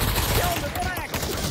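Rapid bursts of automatic gunfire in the virtual reality shooter Pavlov fill the whole moment, loud and steady, with voices talking underneath.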